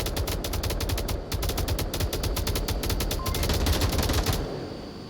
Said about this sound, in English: And the attackers made it on the wall. And are putting rounds down on the objective.